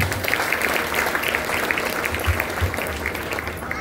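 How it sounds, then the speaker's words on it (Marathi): An audience at a Tukdoji Maharaj paduka and palanquin ceremony claps for the organizers, a dense continuous patter of many hands, steady and fairly loud throughout. "या आयोजकांसाठी सर्वांनी नक्कीच टाळ्या वाजवल्या पाहिजे"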